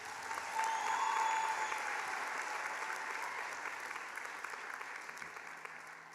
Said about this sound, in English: a resounding round of applause for Professor Karodia's vision